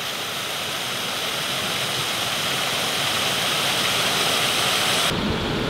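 A rain-swollen river in late April rushes loudly into the intake of a small hydroelectric system, a dense, continuous roar of churning water, close and steady, with no voices.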